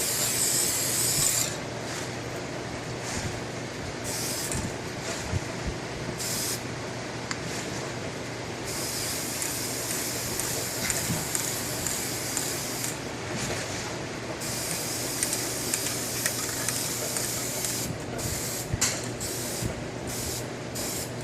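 Aerosol spray paint hissing onto a refurbished car battery in long continuous bursts with short breaks, close and steady, alongside rubbing and handling noises.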